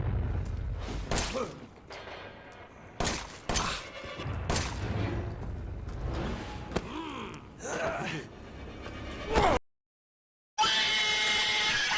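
Gunfire in the horror game Resident Evil 7 comes as several sharp, loud bursts mixed with gasps and thuds, then a brief silence before a final loud stretch.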